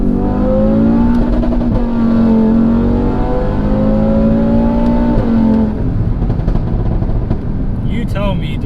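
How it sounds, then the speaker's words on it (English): An Audi RS3 tuned to 520 bhp revs up through its full rev range in second gear, the engine note climbing steadily and loudly before dropping off near the end, with a voice heard over it. "I'm going to send it through the full rev range now"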